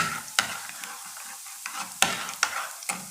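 Whole black peppercorns drop into tomato paste frying in a pan for sarson ka saag, followed by several sharp scraping stirs over a steady sizzle, close up with no voices.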